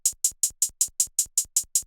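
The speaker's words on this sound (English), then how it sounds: "And this gives you like the standard trap 2-step hi-hats." Trap 2-step hi-hats programmed in FL Studio: ten crisp, evenly spaced closed-hat ticks in a steady rhythm, alone and dry.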